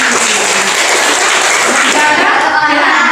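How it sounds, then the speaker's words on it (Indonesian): Applause for a student in a school classroom, steady dense clapping from children throughout, loud and close, with some chatter mixed in. "tepuk tangan untuk Lesti"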